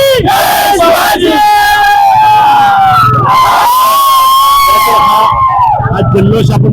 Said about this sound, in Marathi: हा जल्लोष आपण पाहिलाय, तरुणांच्या मध्ये जल्लोष असणारा आपण पाहतोय